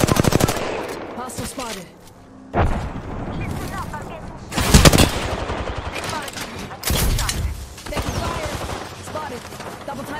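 Bursts of automatic weapon fire from the Apex Legends battle royale shooter crackle in rapid loud volleys, broken by short pauses, with a player talking over the shots and a brief in-game voice callout.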